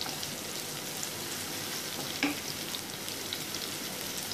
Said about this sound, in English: stir this very well.